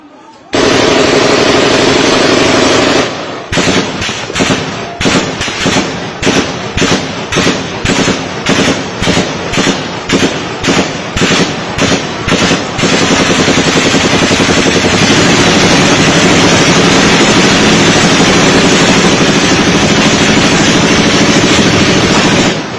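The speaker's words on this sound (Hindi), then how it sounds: "सुनवाने का मतलब यह है कि उसके अंदर आपको बाकायदा गोली चलने की आवाज़ सुनाई देगी" Gunfire at night, in a distorted, very loud recording: rapid sharp shots come in a long rhythmic series of repeated bursts over continuous roaring noise, before and after the volley.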